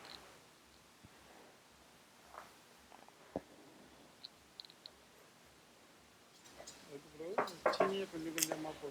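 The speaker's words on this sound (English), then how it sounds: "Take the eggs and mix it up." Eggs being whisked in a bowl for rosette cookie (achu murukku) batter: faint, scattered clinks and taps that grow busier and louder toward the end, with a quiet voice in the room.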